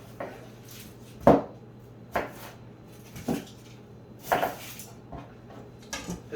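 Several uneven knife strokes chop a yellow onion on a board, a handful of dull thuds and scrapes spaced apart, close and fairly quiet with no talk.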